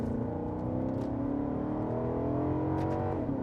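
A 2009 Maserati Quattroporte Sport GTS pulls steadily under acceleration on stock exhaust, its note climbing smoothly in pitch, heard from inside at moderate loudness.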